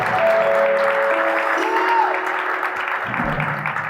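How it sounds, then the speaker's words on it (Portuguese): A crowd applauds during a public talk about São Paulo's favelas, a dense continuous wash of clapping with some tonal sounds layered over it, fairly loud and sustained. "Eu quero mandar uma salva de palmas."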